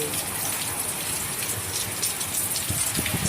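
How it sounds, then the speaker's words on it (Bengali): Heavy rain pours down steadily, a dense continuous hiss of drops hitting surfaces close by, with no speech. "কত জোরে বৃষ্টি হচ্ছে।"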